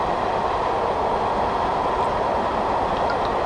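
Train running on the Portsmouth Direct Line in Train Sim 2020, a steady, continuous rolling rumble with a constant drone throughout and no talk.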